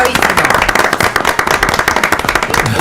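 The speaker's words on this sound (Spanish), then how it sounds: "Aplauso para el doctor" A studio audience applauds a doctor on a Spanish-language interview programme, with sharp, crackling claps coming thick and fast and some voices in the background.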